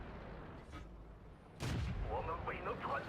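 A tank's main gun fires in World of Tanks during a battle with a Type 64 light tank against a Centurion. A single sharp, loud blast bursts out of a quieter rumble partway through, followed by a ringing tail and some talk.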